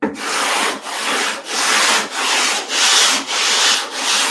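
Wood is sanded by hand with sticky-backed sandpaper in an X pattern, a loud, close rasping scrub repeating in about seven even back-and-forth strokes with brief pauses between them.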